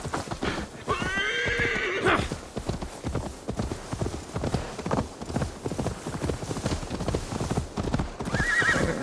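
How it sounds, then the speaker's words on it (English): A horse gallops in Assassin's Creed Valhalla, rapid rhythmic hoofbeats pounding steadily and close, with a loud whinnying neigh near the start and another brief one at the end. "Now to deliver Magni his horse."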